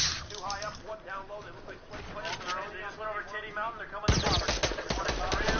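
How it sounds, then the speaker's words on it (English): Rapid bursts of video game gunfire crackle under loud, busy voices in a multiplayer match, with the shooting growing denser and louder over the last couple of seconds. "why are you shooting me?"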